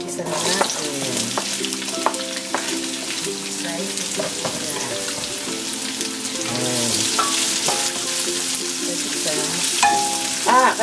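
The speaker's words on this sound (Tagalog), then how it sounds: "Ngayon po lalagyan na natin ang sibuyas. Gigisa na natin." Onion sautés in hot oil with garlic for palabok, a steady loud sizzle and crackle with scraping stirs and clinks of a utensil against the pan running throughout, no voices.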